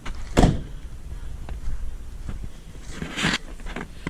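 A 1999-2006 Chevrolet Silverado's hood slams shut in one sharp metallic thud near the start, followed by a few quieter clunks and rustles.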